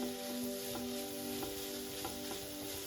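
Steady sizzling of onions and vegetables softening in a pan for paneer do pyaza, with occasional soft clinks of a spoon stirring, close and continuous with no talking.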